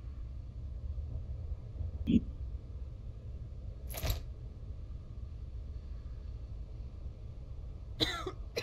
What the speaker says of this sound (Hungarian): Köhög is.